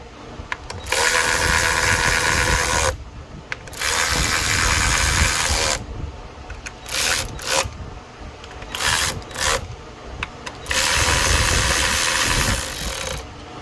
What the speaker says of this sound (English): This tool is helping me snug them down.